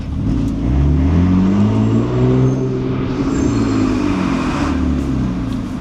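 A BMW E46 GTR project car's engine roars close by, revving up and down in several loud rising and falling sweeps, with no talking.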